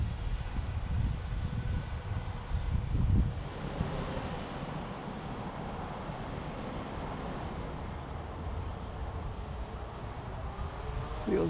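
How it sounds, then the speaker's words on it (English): Wind buffets steadily outdoors during an FPV drone flight on a custom-built quad, a constant low rushing noise at moderate level with no talking. "It's windy."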